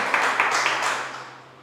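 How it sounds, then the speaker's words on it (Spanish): A church congregation applauding the Lord, a short burst of clapping from a crowd indoors that fades out over under two seconds. "Denle un fuerte aplauso al Señor"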